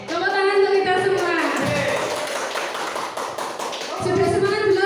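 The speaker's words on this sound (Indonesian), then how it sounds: "Tepuk tangan untuk kita semua." A group of teachers at a school workshop claps together in a short, dense burst of hand taps, close and fairly loud, with voices chanting or talking through it.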